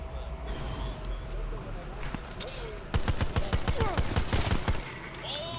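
Rapid bursts of gunfire in a heist video game, a quick volley of sharp shots clustered in the second half, heard over steady background game noise with players talking.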